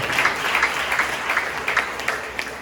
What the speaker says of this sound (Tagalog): Pumalakpak tayo sa ating malabay mo